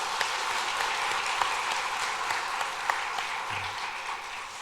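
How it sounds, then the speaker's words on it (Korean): Church congregation applauding during a Sunday worship service after the choir's hymn, a steady dense wash of clapping throughout, moderately loud and even with no pauses. "하나님께 감사의 박수 올려드리겠습니다."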